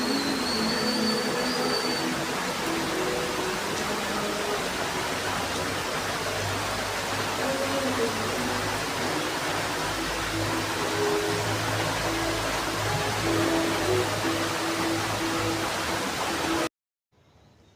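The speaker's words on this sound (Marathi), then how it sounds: "तर इथे बघा पाऊस एकदम जोराचा चालू आहे" Heavy rain pours steadily outdoors at a rural home, a dense, continuous hiss and roar with no breaks, ending abruptly near the close.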